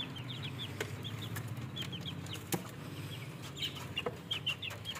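A hen that has just laid an egg clucks repeatedly in short, soft bursts over a steady background hum, with a few sharp knocks in between.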